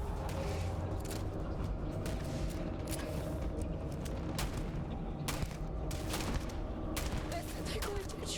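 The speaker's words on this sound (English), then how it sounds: "Just keep shooting" Rapid gunfire in the space game Starfield, a busy stream of sharp shots and mechanical clanks layered over a constant rumbling combat backdrop.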